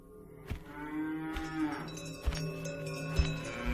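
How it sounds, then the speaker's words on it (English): Cattle moo loudly and close by while crossing a road, one long drawn-out bellow with soft clanks and knocks around it and no talk. "After the cows had crossed the road and suddenly the path was clear again for Himu and Hansa to walk on"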